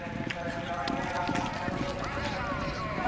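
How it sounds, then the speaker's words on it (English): Polo ponies being prepared at the Guards Polo Club make light clip-clop hoofbeats on the ground, faint and irregular beneath a narrator talking throughout. "We're watching horses being prepared for the Duke of Wellington trophy."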